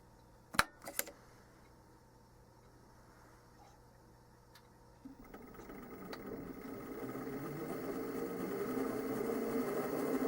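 A lathe spins up an Accusize 5-inch 3-jaw chuck with the drivetrain disconnected: after a couple of clicks, a low whirring hum builds gradually and holds steady, fairly quiet and without gear noise.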